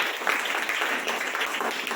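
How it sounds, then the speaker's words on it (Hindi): A church congregation at a Hindi Christian service clapping hands together, a dense, lively patter of many hands close by, with a voice faintly present underneath. "अभी ताली बजाना"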